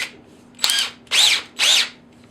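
A handheld power drill fitted with a driver bit runs in three close bursts: a short blip, then two longer whirring runs with a brief pause between them, heard alone.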